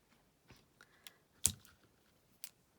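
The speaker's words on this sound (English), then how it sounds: "So I'm just going to cut off a piece of twine." Scissors snipping a piece of twine while making a handmade card, a few quiet, sharp clicks and snips spread over a couple of seconds, with one louder cut standing out against a near-silent room.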